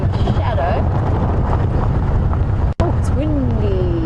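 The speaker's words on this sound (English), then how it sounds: "Oh, it's windy." Strong wind blows outdoors during a sunset safari drive, a loud, steady rush buffeting the microphone with a brief dropout, while a few faint whistling calls rise through it.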